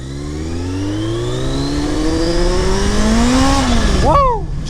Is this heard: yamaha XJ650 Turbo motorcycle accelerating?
yes